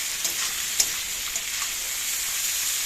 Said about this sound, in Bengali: আর এখানে কাজু কিশমিশ সবজিটা দিয়ে দিয়েছি একবারে, দিয়ে একটুখানি আর একটু নেড়ে নেবো